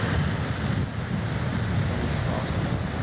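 Ocean surf rolling onto a quiet beach in Mexico, a steady broad roar of waves mixed with wind buffeting the microphone, continuous and fairly loud with no talking.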